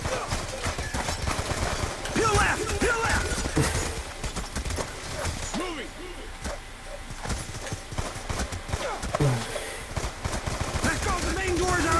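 Rapid full-auto pistol fire in a video game, dense bursts of shots running nearly nonstop over a busy game mix, with a voice talking on top.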